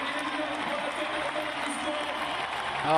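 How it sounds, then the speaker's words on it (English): Spectators cheer and applaud steadily for a climber at a Paris world championship paraclimbing event, a dense, continuous crowd roar with no clear breaks, rising slightly at the end. "Crowd's really behind him now."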